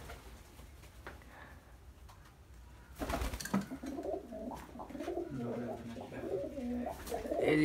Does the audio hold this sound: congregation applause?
no